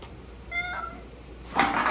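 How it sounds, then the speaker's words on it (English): A pet cat gives a short, thin meow indoors, fairly faint over room noise, followed by a louder rustle or knock. "Everyone say hello to Zane's cat, Lola."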